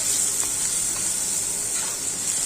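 Onions frying with salt in a home kitchen pan give off a steady, bright sizzle throughout, loud and close, with faint stirring scrapes and no talking.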